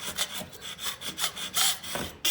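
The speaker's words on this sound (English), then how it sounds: "take this putty knife, scrape off all the loose paint" Putty knife scraping loose, bubbling paint off a wall, a run of short rasping strokes in uneven rhythm, close and fairly loud with no talk.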